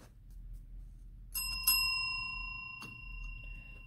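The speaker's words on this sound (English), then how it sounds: "Tried to ring that bell once, but it rang twice." A bell is struck twice in quick succession, bright metallic dings that ring on and fade slowly, followed later by a faint third tap, in a quiet setting.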